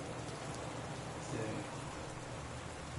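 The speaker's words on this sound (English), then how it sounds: "Sounds like it's raining outside." Steady rain patters continuously, a soft broadband hiss with faint drops on a surface, moderately distant and even throughout.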